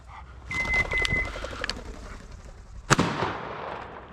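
Shotgun fire at flushed partridges during a hunt with BB and 9 shot duplex loads: a few sharp pops, then one loud close blast near the end, with a bird call and wingbeats fluttering early and faint voices around.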